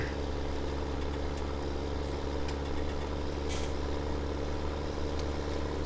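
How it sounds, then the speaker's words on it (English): A 313 horsepower tractor in Farming Simulator 17 drones steadily as it strains up a steep hill hauling a trailer loaded with 20 bales, a continuous low engine rumble with no talk over it. "This is a 313 horsepower tractor as well. Really struggling with 20 bales on the back."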